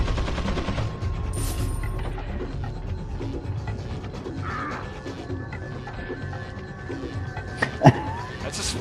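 Gunshots in the Resident Evil 4 video game: a single sharp, loud shot rings out near the end over busy game ambience with crow-like caws and mechanical clatter.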